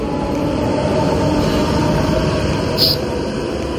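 A train pulling into a station on a grey, overcast day, heard as a steady broadband rumble and hiss of rolling stock that holds evenly throughout, with a brief higher squeal near the end.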